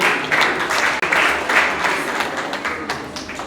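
Audience applause, loud and close, rolling in uneven waves of dense clapping for a few seconds.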